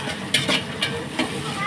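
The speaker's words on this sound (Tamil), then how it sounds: "இந்த மாதிரி பொன்னிறமாக வந்து நல்லா பொரிஞ்சு வரணும்." Onions with cinnamon and cloves frying in coconut oil for dum biryani, sizzling steadily with brief stirring scrapes, close and moderately loud under a background hum.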